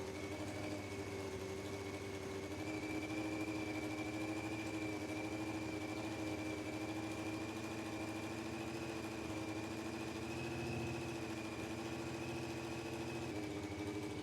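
Honda CBR600 motorcycle engine idling at raised revs from an air leak, a steady, even drone with a constant whine, unbroken and fairly distant throughout.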